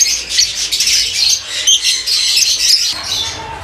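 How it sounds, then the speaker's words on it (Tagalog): Blue-naped parrots in an aviary give loud, close, harsh squawks and chirps in a busy, continuous stream with no talk. "Itong Blue Nape Parrot, isang pair,"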